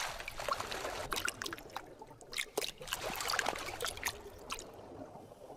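The long body of a tentacled snake stirs the water, giving soft, irregular trickling and sloshing with small splashy bursts. The sound is faint and close, with no voices.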